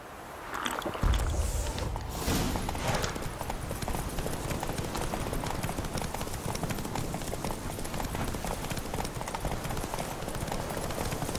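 Steady clip-clop of a horse's hooves in a video game continues throughout over a dense, noisy background, the horse moving at a steady pace.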